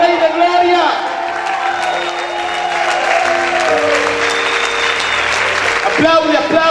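A church congregation applauds loudly, a dense wash of clapping mixed with crowd noise while a preacher's amplified voice carries over it, along with sustained musical tones underneath.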